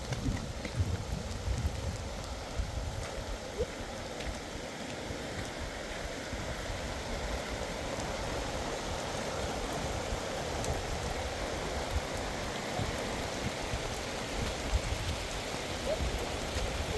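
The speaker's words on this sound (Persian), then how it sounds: "بارون وحشتناک" Heavy rain pours steadily and close for the whole stretch, a dense hiss with pattering drops and some rumble of wind, with no voices over it.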